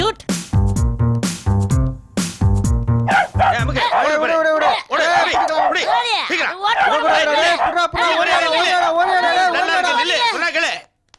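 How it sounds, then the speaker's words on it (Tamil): Brief music opens, then several street dogs bark rapidly and overlap in a loud, continuous clamor, with voices mixed in. "இந்த தெரு நாய்ங்க தான் உஷாராயிடுச்சுங்க"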